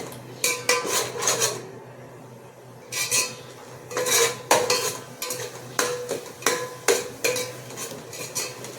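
Masala for Chettinad chicken biryani is sautéed in a pot. A spoon scrapes and clatters against the metal in repeated bursts over a faint, steady sizzle.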